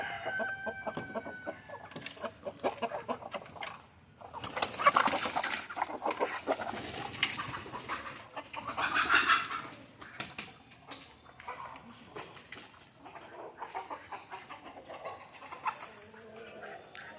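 Chickens cluck and call repeatedly nearby, with occasional louder squawks rising over a busy barnyard background.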